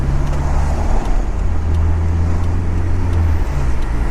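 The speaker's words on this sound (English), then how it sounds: "there's a lot of traffic out." Road traffic heard from inside a moving Toyota pickup with a 22RE engine, a steady loud drone of engine and tire noise with low humming tones throughout.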